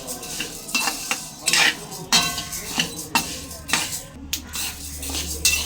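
Urad dal roasting in a pan over a low-to-medium flame for sunni undalu, stirred with a metal spoon that scrapes and clinks against the pan in an uneven rhythm, loud and close, under a faint background sizzle.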